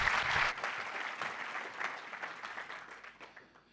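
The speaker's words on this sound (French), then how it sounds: "Vous pouvez l'applaudir." Applause from a conference audience, a dense burst of many hands clapping that starts strong and gradually thins and fades over a few seconds.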